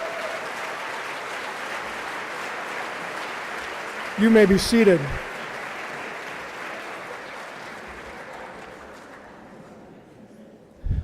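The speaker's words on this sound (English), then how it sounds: "Let's give a round of applause for all of these student athletes." Banquet audience applauding student athletes at a high school all-sports banquet, a steady dense wash of clapping that slowly tapers, with a voice speaking briefly over it midway.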